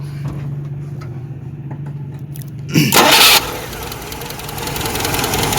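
A car engine cranks and catches at about 2.8 seconds with a loud burst, then settles into a steady, slightly uneven running idle; the idle shakes more than normal when a spark plug wire is pulled. A low engine hum is audible before the start.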